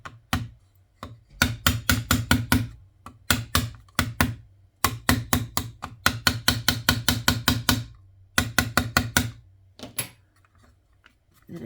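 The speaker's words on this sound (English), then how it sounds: "Hold your ears. We're going to hammer." Hammering comes in quick bursts of sharp, ringing strikes, several blows per run, with short pauses between the loud, close rhythmic groups.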